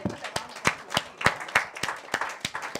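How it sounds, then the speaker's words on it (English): An event audience claps in response to a sponsor thank-you, a sparse, fairly close round of separate handclaps at a steady rhythm. "So let's put a round of applause."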